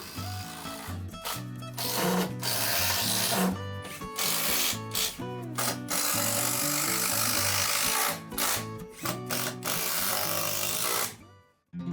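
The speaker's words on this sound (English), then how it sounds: "I'm starting to install the joists" A carpenter installing wooden floor joists in a pantry remodel, with long stretches of loud power-tool whirring and grinding on wood, broken by short pauses, close and with no talk.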